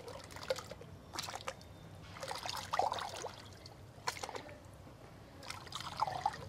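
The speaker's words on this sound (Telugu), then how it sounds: "నేను నిమ్మ మొక్కలకి అన్ని మొక్కలకి పోసేస్తా చాలు." Water is poured from a mug onto lemon plants and other garden plants, a soft intermittent splashing and trickling in several short pours, fairly quiet and close with no talk.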